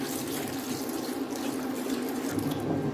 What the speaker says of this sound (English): add in water to wash the banga